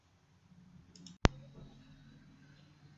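Computer mouse clicking while opening Microsoft Excel: one sharp, close click stands out after a couple of faint lighter taps, over quiet room hum and low background sound.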